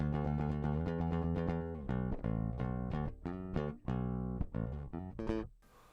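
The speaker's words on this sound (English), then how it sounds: "I should just say the DI tone sounds like this." Clean direct-input tone of a Squier Classic Vibe P-Bass: a melodic line of plucked notes, some sustained and some short and punchy, dry and close, with no voices.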